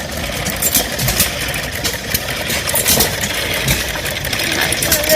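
A small old engine driving a water pump at a threshers show runs steadily at a rough, rattling idle, loud and close, with a constant mechanical drone throughout.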